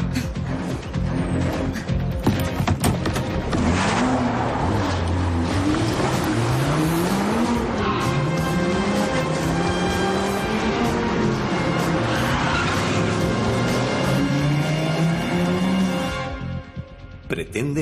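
A car drives hard in a film scene, its engine revving up and down in rising sweeps while the tires squeal and skid, loud and continuous, with people talking over it.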